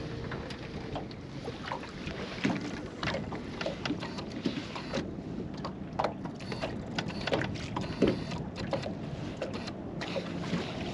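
Steady wind gusting across a lake around a small fishing boat during winter crappie fishing, with broadband rushing and buffeting on the microphone plus occasional knocks and clatter, no talking.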